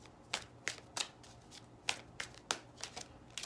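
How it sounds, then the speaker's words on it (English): A small, tiny tarot deck is shuffled by hand, giving a run of quick papery riffles and soft slaps in uneven bursts, close and fairly quiet against a faint background hum. "So I'm going to shuffle the deck for Taurus."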